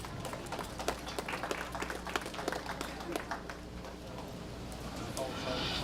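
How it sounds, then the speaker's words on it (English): Scattered applause from an audience at a county livestock show, a spread of claps with a few sharper hits, fairly faint and distant over a steady background hum, with speech mixed in. "Let's give them a round of applause."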